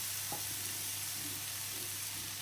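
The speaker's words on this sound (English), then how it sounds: "I'm going to cook the tofu in here" Tofu frying in a pan makes a steady, fairly quiet sizzle, with a single brief clink near the start and no talking.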